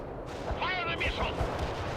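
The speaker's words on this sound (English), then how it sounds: "Fire the missile." Missile launch and gunfire in the World in Conflict video game, a Soviet assault battle: a rushing, crackling burst of fire over a dense, continuous rumble of combat noise, with a voice talking underneath.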